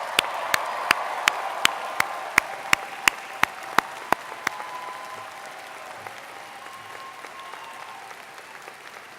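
About a dozen slow, evenly spaced single claps ring out sharply in a large hall at a University of Waterloo Faculty of Arts convocation for the class of 2018. They stop after a few seconds, leaving a faint room hum and no cheering.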